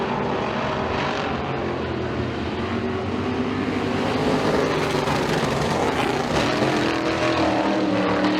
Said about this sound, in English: So the Rush Sportsman Modifieds, they go for 8 laps in their heat races